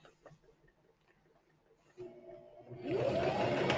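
A sewing machine stitches fabric triangles together, starting with a few quiet clicks and handling noises, then running up into a steady close mechanical whir over the last second.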